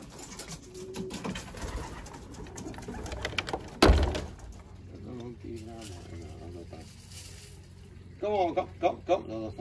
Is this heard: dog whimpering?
no